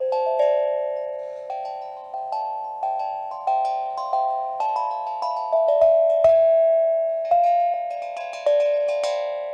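Notes struck one at a time with equal force on an Onki instrument, bright ringing metallic tones that decay between strikes and form a slow melodic sequence, close and clear with no talking.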